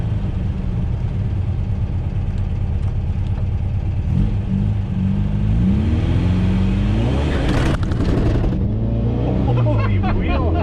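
A pink 1969 VW Beetle on its first drive in 14 years, its engine rumbling loudly and revving up as it pulls away, heard from inside the car with voices talking over it.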